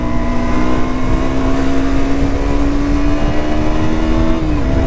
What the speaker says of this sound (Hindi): ओहो कारें बहुत ज़्यादा चल रही है